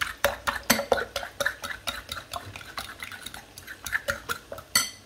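Eggs lightly whisked by hand in a bowl for a Spanish tortilla, giving a fairly quick, uneven run of sharp clicks and scrapes from utensil against bowl, close and clear with no talking.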